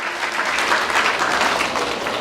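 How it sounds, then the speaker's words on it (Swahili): A crowd at the Embu College graduation ceremony in Embu Moi Stadium claps steadily for the county deputy governor, a dense, even wash of applause with no gaps. "Deputy Governor wetu Mheshimiwa David Kariuki apigiwe makofi ya kutosha."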